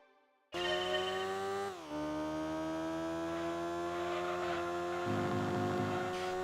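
A high-revving Alfa Romeo engine in the video game Gran Turismo 2, racing on the Rome circuit, gives a loud, continuous synthesized drone. The pitch climbs steadily, dips briefly at a gear change, then holds high and steady.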